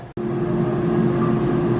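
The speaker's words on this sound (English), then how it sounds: "if you hear some noise in the background, that is my air fryer" An air fryer cooking chicken wings whirs in a steady, fairly loud hum with a fan drone, starting after a brief click and continuing alone without talk.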